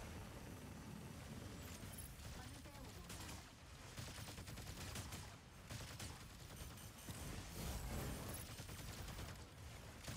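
Gunfire from giant robots in the mecha game Mecha Break comes in dense, continuous bursts of rapid shots and blasts. It fills the whole stretch loud and close, with a player's voice faintly mixed in.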